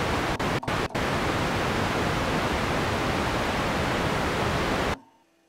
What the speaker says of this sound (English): we have the noise waveform, which sounds the same at all footages